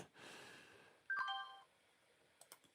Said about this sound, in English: you can hear me just ringing the bell here